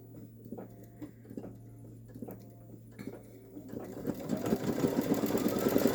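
A Babylock Solaris embroidery machine stitches a ghost design onto a t-shirt, its steady rapid needle patter running throughout and growing louder and busier toward the end.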